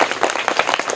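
Loud, dense applause from a class of students rewarding a classmate's correct quiz answer, steady clapping filling the whole moment with no talk.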